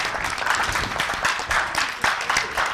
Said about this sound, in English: The first group that clapped is gonna get a point.